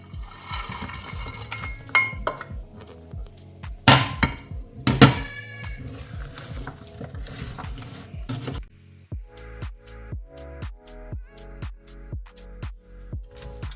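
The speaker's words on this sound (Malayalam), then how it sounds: "ഇനി നമുക്ക് വറുത്ത് വെച്ചിരിക്കുന്ന ചെമ്മീൻ അതിലിട്ട് ഇളക്കാം" Fried prawns being stirred into a thick prawn pickle masala in a pan, with irregular clanks and scrapes of a spoon at first, then a steady run of rhythmic knocking strokes, close and fairly loud.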